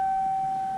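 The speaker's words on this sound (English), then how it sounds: "Oh no, it's the warning sirens." Civil defense warning sirens sound during a quarterly emergency test, a single steady tone holding level and continuous from far off with no voices.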